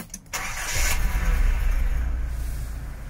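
A 1991 Nissan Datsun D21 4x4 crew cab pickup starts with a short cranking burst, then settles into a loud, steady, low idle close by, with no talk.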